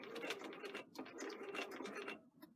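A sewing machine runs a line of stitching on a sleeve placket along a raw edge, a faint, busy mechanical clatter of short rapid stitches that ends with a couple of quick ticks.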